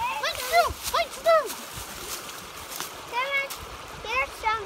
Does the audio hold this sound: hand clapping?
no